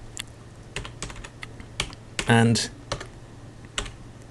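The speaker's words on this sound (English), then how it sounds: "turning on the computer here with the password" Password being typed on a computer keyboard in a home near a running kitchen extractor: scattered, irregular key clicks with a low steady hum beneath, and a brief spoken word in the middle.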